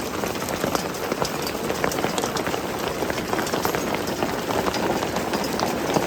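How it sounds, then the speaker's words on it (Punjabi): Hail falls in a dense, continuous patter of sharp ticks and clatter striking surfaces, steady and loud throughout, in the Barot Valley of Himachal Pradesh. "ਇਹ ਬਰਫ਼ ਨਹੀਂ ਗੜੇ ਆ ਰਹੀ ਹੈ"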